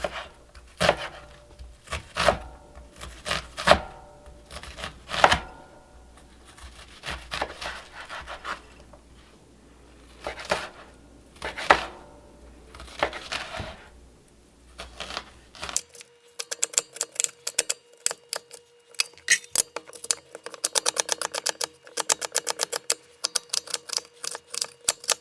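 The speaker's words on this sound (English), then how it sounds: "So with all those onions diced up and my eyes watering just a little bit from that" A knife chopping and dicing onions on a cutting board, with irregular knocking strokes for a while that give way to a fast, dense run of quick rhythmic taps near the end, no voices.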